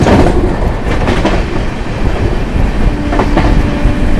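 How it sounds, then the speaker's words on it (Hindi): Delhi Pathankot Superfast Express train overtaking the Malwa Superfast Express at about 130 km/h, a loud, close rush of wheels and rattling carriages with rhythmic clickety-clack beats over a continuous roar, no talk. "और बढ़िया होमकिंग के साथ ओवरटेक होने जा रहा है मालवा सुपरफास्ट एक्सप्रेस को।"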